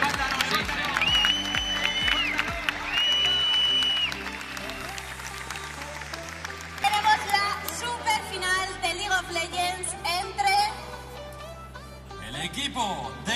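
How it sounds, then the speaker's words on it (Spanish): An esports event audience at ESL Masters Barcelona 2016 applauds and cheers in a large hall, loud crowd clapping swelling and fading over amplified music and announcer noise. "Un aplauso también para los chicos de Sur."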